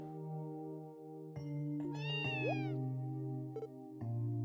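Cat meowing in the video game Trails From Zero, a series of clear, close meows with rising and falling tones over a steady game music background, several calls across a few seconds.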